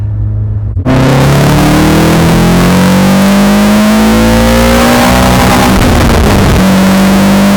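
Ariel Atom engine revving hard at full throttle, a loud continuous roar with rising pitch that kicks in abruptly after a brief quiet start and stays close and dominant throughout.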